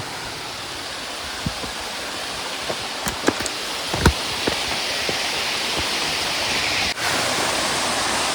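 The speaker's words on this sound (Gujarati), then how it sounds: "પાણી ખળખળ ખળખળ વહે છે" Water rushing down the Najor Mata waterfall makes a steady, close broadband roar throughout, with a few brief knocks and splashes. No one talks.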